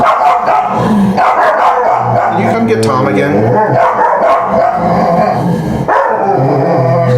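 Dogs bark and growl loudly close by, a rough, overlapping racket that keeps going beneath continuous conversation.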